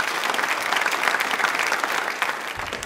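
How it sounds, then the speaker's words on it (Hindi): A studio audience bursts into sustained, dense applause at a quiz programme for Birsa Munda Jayanti and Janjatiya Gaurav Divas, steady and loud for a few seconds before tapering at the end. "तालियां एक बार जोरदार।"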